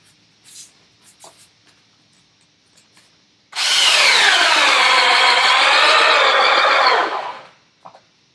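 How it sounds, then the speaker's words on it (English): A power drill drives a screw into wood pieces in one loud, steady burst of about three seconds, preceded by soft handling taps and followed by a couple of small clicks. "I'm going to screw twice on each one to make sure it can't pivot."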